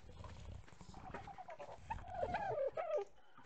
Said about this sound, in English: where's my bird?